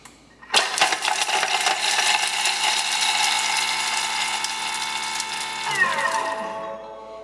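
Thermomix blade chopping a meatball mixture at speed 7, a sudden loud whirring mechanical buzz with a rattling ratchet-like texture that runs steadily for about five seconds, then winds down.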